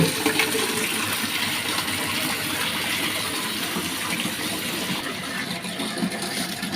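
Water gushes steadily from a pump into a 20-litre container, a loud continuous rushing splash that stays strong without a break.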